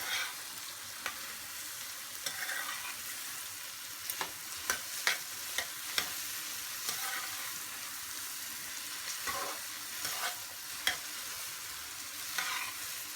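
Onions browning in a pan for a vegetable curry, with a steady sizzle and frequent sharp clicks and scrapes of stirring, moderately close and without speech.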